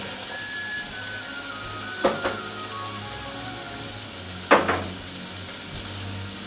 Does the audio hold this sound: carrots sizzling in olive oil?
yes